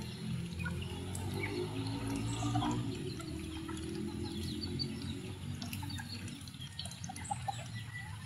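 Chickens in a small backyard cluck and call steadily over a constant outdoor hum, with scattered sharper bird calls throughout and no talking.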